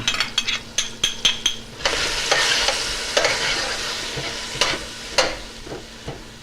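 Onions and garlic sauté in a pot in a boat's galley. Quick spoon taps against the pot come first, then a loud, continuous sizzle takes over with occasional scraping clicks.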